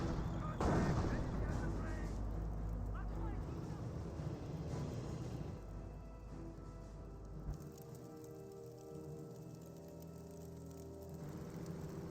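A bomber run strike in the World War II strategy game Company of Heroes hits with a sudden heavy blast, then a long, deep rumble that fades and trails into lower battlefield noise, with a voice talking underneath.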